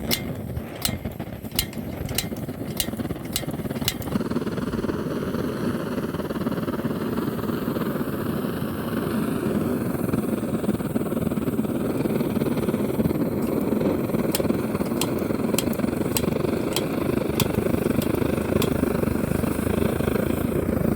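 A Monitor No 26 paraffin blow lamp burns with a steady, loud roaring hiss, while sharp ticking clicks come in quick runs at the start and again near the end.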